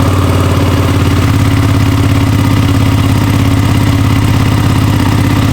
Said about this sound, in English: But I will throw in a cold start right here.